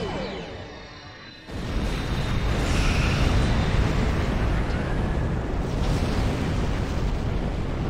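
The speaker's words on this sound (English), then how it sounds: "he just dropped torpedoes" Torpedo explosions in the space combat game Star Trek Online: a sudden loud blast that swells into a sustained roaring rumble after a quieter start.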